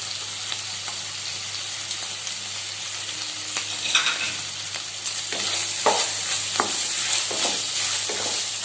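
Mutton sizzling and frying in a pan as chili powder goes in, a steady close hiss broken by scraping stirs and clinks of a spatula, no voices.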